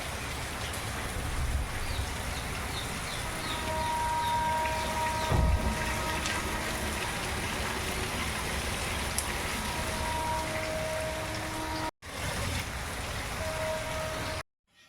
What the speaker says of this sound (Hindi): तो अभी यहाँ से दिखेगा आपको बारिश का नज़ारा।